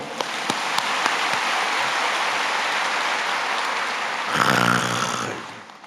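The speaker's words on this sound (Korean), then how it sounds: "우리 한번 박수 한번 쳐주세요" Church congregation applauding during a worship service, a steady wash of many hands clapping throughout, with a voice briefly rising over it near the end.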